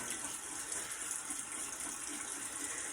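Cold water running steadily from a bathroom tap into cupped hands while wetting the head before shaving, a continuous close hiss and splash with no talking.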